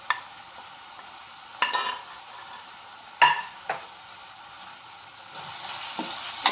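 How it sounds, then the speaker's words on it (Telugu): A spoon scrapes and stirs fried onions with ginger garlic paste and coriander and cumin powders in a pan, a soft sizzle broken by a few sharp utensil knocks against the metal. "ఒకసారి మిక్స్ చేసుకుందాం"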